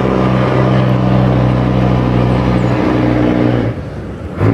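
A laboring truck engine drones loud and close on the road, a heavy low rumble holding steady for several seconds before dropping away briefly, then a short surge near the end.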